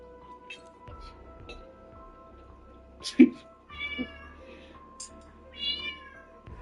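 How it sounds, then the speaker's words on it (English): A house cat meows several times, wanting wet food, with distinct drawn-out cries spaced a second or so apart over a quiet indoor background and faint low talk. "Yeah, my cat's super noisy."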